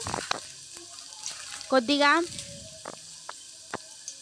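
Green chilies and curry leaves crackle in hot oil, a faint, steady background sizzle with sharp ticks, broken midway by a short burst of a voice.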